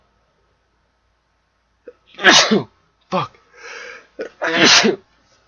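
A loud sneeze bursts out, followed by a second sneeze after a short pause, with a brief muttered word between them.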